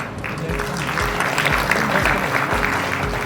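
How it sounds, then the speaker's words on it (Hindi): A burst of loud, sustained audience clapping at a book launch, thick and even throughout with a few voices faintly mixed in. "एक बार जोरदार तालियां।"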